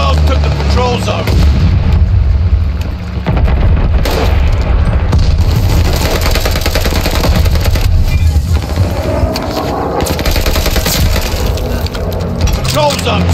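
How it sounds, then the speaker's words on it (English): Repeated booming explosions from bombs dropping in Call of Duty: Vanguard multiplayer, loud and dense with crackling gunfire mixed in, sustained throughout, with voices shouting over the din. "Coming bombs! Clear out!"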